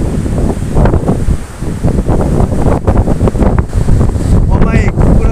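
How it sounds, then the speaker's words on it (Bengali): Strong gusts buffet a phone microphone on a seaside road by the hills, a loud, continuous rumbling roar that swells and dips, with a voice speaking underneath. "আমি ফোন ধরে রাখতে পারতেছি না বাতাসে।"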